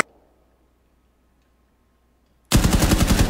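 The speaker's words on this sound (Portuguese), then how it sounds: "Fih, calma aí, não vai atirar em mim, não." A sudden burst of rapid automatic gunfire from the video game Rainbow Six follows a few seconds of near silence, loud and close with a fast, even rhythm.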